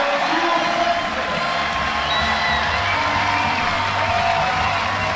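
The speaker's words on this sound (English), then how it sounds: "the crowd are on their feet for her" A packed judo arena crowd at a Grand Prix in The Hague rises to its feet, a dense, steady roar of cheering and whoops that holds loud and continuous throughout.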